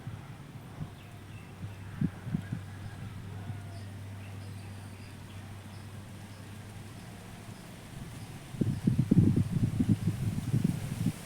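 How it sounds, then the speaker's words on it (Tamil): Strong wind blowing through a kitchen garden, a low rumbling wind noise against the microphone with gusts that grow louder near the end and some rustling of plants. "செம காற்று அடிக்குதுங்க"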